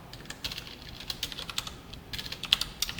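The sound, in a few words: computer keyboard typing, pressing Ctrl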